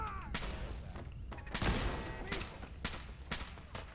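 Gunfire in the Fallout 4 video game, a string of sharp separate shots at irregular intervals, loud and close over faint background ambience.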